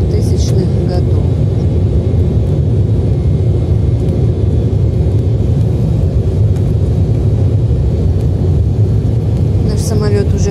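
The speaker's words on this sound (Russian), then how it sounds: "Наш самолет уже разгоняется." A roughly 100-seat passenger jet of Brazilian design speeds down the runway for takeoff, heard from inside the cabin as a loud, constant, deep engine roar, with faint speech beneath it.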